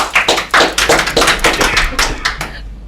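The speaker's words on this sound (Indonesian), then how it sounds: "Tepuk tangan untuk Kenta" Hands clap for Kenta at a home podcast gathering, a few nearby people producing loud, close, irregular claps in quick bursts that stop abruptly near the end.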